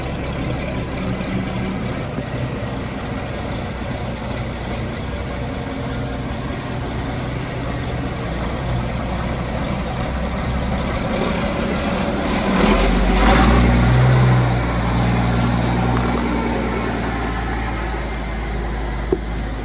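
Massey Ferguson 168 tractor engine running while being driven outdoors, a steady mid-distance diesel rumble that grows slightly louder and heavier for a few seconds before settling back.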